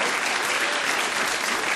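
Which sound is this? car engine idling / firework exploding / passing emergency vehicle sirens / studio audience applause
studio audience applause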